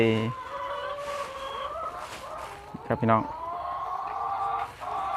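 Laying hens cluck and squawk nearby in a poultry pen, with someone talking over much of the clip and a sharper burst of calls near the middle.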